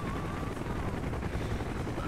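A helicopter in Call of Duty Black Ops, its rotor throbbing in a steady, dense wash of noise at moderate volume, with a faint high whine drifting over the top.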